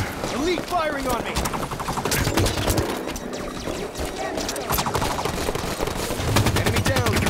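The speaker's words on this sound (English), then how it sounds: "Elite firing on me!" Halo 5 Warzone Firefight gunfire as an Elite shoots at the player: rapid, continuous automatic bursts and sharp energy-weapon shots crackle throughout, loud and close, with a voice speaking over the fire.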